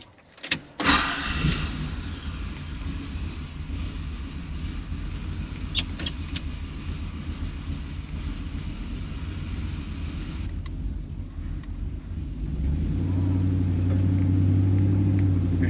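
A car with a carbureted LS engine and a swapped intake: a few sharp knocks, then a steady mechanical rumble, building to a louder, deeper engine roar near the end as it pulls onto the road.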